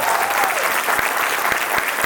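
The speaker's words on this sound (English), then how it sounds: "Can we pause and give the Newcastle County Police a big round of applause?" A sustained round of applause for the Newcastle County Police at a volunteer and partner appreciation gathering, dense steady clapping from a large crowd filling the room throughout, with a faint tone passing briefly at the start.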